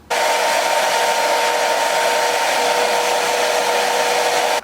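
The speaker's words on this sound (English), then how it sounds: "now we're gonna blow dry" A hair dryer blows on a 13x6 lace frontal wig, a loud, steady close-up whoosh with a constant tone that runs without a break and stops abruptly at the end.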